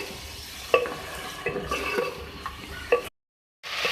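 Ginger-garlic paste frying with spices such as bay leaves in a pan for a chicken salan, a steady close sizzle with a few sharp stirring clacks, cutting to silence near the end before the sizzle returns.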